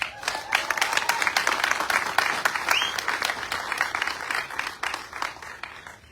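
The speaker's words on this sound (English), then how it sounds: "Can we give Mr. Roberts a round of applause?" Sustained applause from a crowd at a police promotion ceremony in Bermuda. Dense, fast clapping keeps a steady level for several seconds and thins a little toward the end, with no talk over it.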